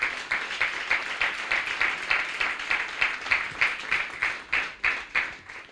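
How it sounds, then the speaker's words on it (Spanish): A church congregation at a Pentecostal service claps together in a steady, rhythmic beat, soft and somewhat distant, sustained without pause and with no voices on top. "Démosle un aplauso al Señor de alabanza."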